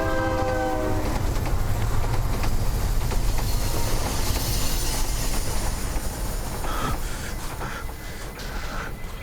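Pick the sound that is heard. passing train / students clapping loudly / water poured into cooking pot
passing train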